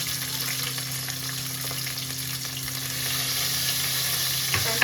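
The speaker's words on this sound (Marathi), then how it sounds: "मी कढीपत्ता टाकून घेतला आहे तेलामध्ये आणि मग मी त्यात घालणार आहे कांदा" Curry leaves and finely chopped onion fry in hot oil in a home kitchen, giving a steady, close, dense sizzle that builds slightly toward the end, with faint stirring scrapes and no talking.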